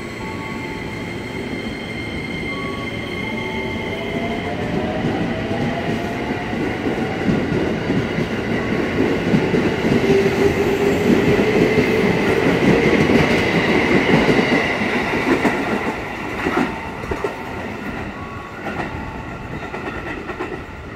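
A commuter train pulls out of Bekasi station, a loud, steady rumble of rolling wagons with rhythmic wheel clatter and faint squeals, building slightly and then easing over about twenty seconds, with no talk over it.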